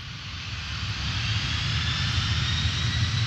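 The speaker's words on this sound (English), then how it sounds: "Like this heavy transport military aircraft." A heavy military transport aircraft fighting wildfires in Israel drones in a steady, heavy engine roar that slowly swells louder, with no voices.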